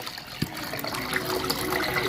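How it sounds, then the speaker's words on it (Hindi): Water is poured into an onion-peel fertilizer mix for potted plants, giving a steady, close splashing gush with a brief low thump near the start and no speech. "थोड़ा और हम पानी मिला देते हैं"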